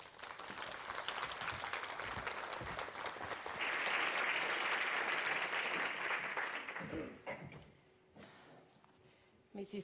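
Conference audience applauding a speaker in a hall, dense clapping that swells to a loud peak, then fades out and stops near the end.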